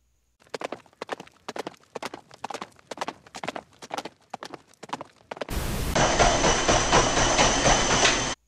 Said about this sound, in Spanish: cuando corre un caballo o un animal ungulado